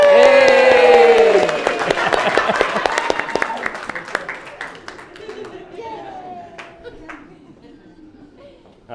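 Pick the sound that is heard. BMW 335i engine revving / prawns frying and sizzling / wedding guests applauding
wedding guests applauding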